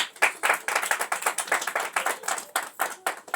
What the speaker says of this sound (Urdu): ہاں اس کے لیے ذرا تالیاں بجاؤ ذرا